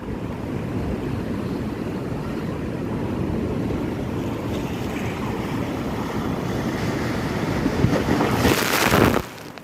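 Large sea waves pound the shore at Point Pedro during a cyclone, a continuous loud rumbling roar mixed with wind buffeting, building to a heavy crash near the end before cutting off.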